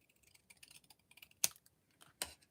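Scissors snipping along the edge of paper during a papercraft project with stamping products, a couple of crisp cuts among soft light rustling, quiet and close.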